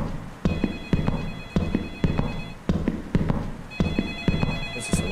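A telephone rings inside a horror video game, a loud, steady repeating ring in evenly spaced bursts with short pauses between them, no talk.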